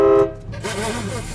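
A train horn fitted to a BMW E90 car blares in a brief loud blast at the start, then cuts off into engine and road noise with a wavering tone trailing after it.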